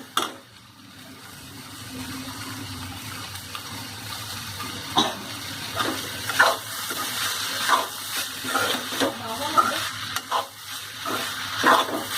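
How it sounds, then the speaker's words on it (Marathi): Sprouted mung bean curry sautés in a pan, with a soft continuous sizzle and frequent clattering stirs and scrapes of a spoon, close up and without speech. "आता ही भाजी चांगली परतून घ्यायची."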